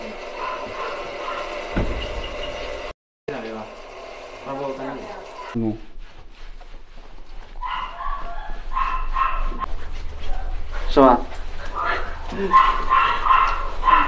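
A Chinese native mongrel dog, a village tudog, barks and whimpers in short harmonic bursts and whines while people talk over it nearby, during a bath.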